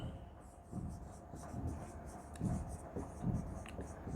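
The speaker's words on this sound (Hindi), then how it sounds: "तो आइए मैं यहाँ पर लिख दूँ" Chalk or marker scratching on a board during a Hindi-language maths lesson on series convergence, soft rhythmic strokes in short bursts, fairly quiet against room noise.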